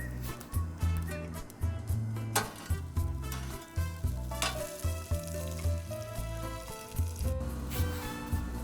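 Ground meat browns and sizzles on a 22-inch Blackstone griddle. A steady hiss runs under repeated rhythmic scraping and pulsing sounds close by, with no voices.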